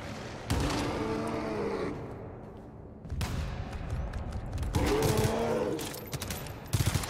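Gunfire in the co-op shooter GTFO, with dense bursts of automatic shots in two loud stretches separated by a brief lull, ending in a few sharp cracks.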